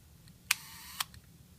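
Shutter of a medium format view camera, faint and close: a sharp click as it opens, a thin sustained whir for about half a second, then a second crisp click as it closes, with a small tick after.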